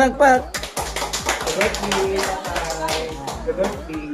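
Several people clap together at a family birthday party, quick uneven claps mixed with voices talking and chattering over them.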